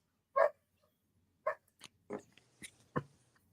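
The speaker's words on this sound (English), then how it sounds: "Dog's going nuts in there." A dog barks indoors, muffled as if from another room. About five short barks come in an irregular sequence, fairly faint, with quiet gaps between them.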